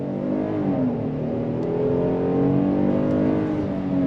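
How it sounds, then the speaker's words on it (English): A 2024 Kia Telluride V6 SUV with an 8-speed transmission and all-wheel drive accelerates on throttle out into traffic, its engine drone steadily rising in pitch from inside the cabin. "let's pull out in traffic here and go on throttle."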